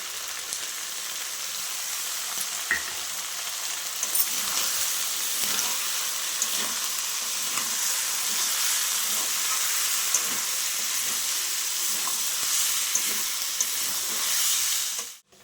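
Cumin, ginger, dried chilli, black pepper and garlic fry in hot oil for a liver chochchori, a steady close sizzle with scattered small pops and crackles that stops abruptly at the end.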